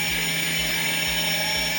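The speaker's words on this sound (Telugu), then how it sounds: "సౌండ్ ఎట్లా వస్తుంది అంటే సేమ్ టు సేమ్ హెలికాప్టర్ లెక్క సౌండ్ వస్తుంది." Homemade drone motors spin at speed with a helicopter-like drone, a steady high whine with strong tonal hum and rhythmic low pulsing about twice per second, loud and close with no talking.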